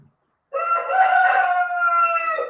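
A rooster crows once in a long, loud, clear cock-a-doodle-doo that lasts about two seconds after a short silence, nearby and alone.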